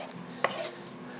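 A single crisp knife chop on a cutting board as fresh ginger is finely cut for soup, brief and close against a quiet kitchen background.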